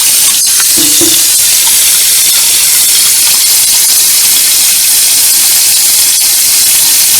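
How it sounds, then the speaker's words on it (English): Tap water runs steadily from a tankless water heater line on a cold December day in Pensacola, Florida, a loud, constant broadband hiss that fills the whole clip with no talk. "We'll let a little bit of water flow through here."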